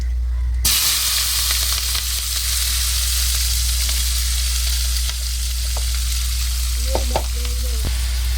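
Cabbage upperi, a Kerala-style dry dish, sizzles and hisses steadily in a hot pan, a constant close frying sound with occasional soft scrapes and clinks of stirring near the end.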